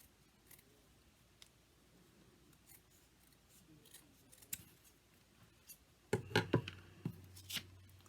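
Scissors trimming material for a handmade Christmas advent calendar house: quiet handling at first, then a cluster of several sharp, close snips in quick succession, with no voices.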